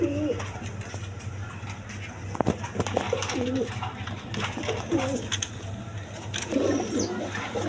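Chini Kaldom pigeons at a seller's loft give repeated rolling coos, four or five spaced calls over a low steady hum, with a sharp click midway and some faint background voices.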